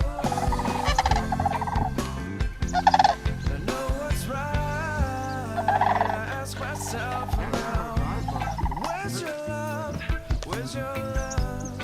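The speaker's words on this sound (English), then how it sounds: "A flyby from sandhill cranes, mews, chirps, cow calls" A flock of sandhill cranes flies over, giving repeated rolling, trumpeting, gobble-like calls that overlap and keep going for about twelve seconds, fairly close and clear.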